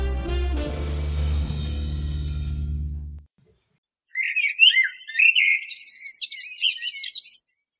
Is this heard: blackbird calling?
yes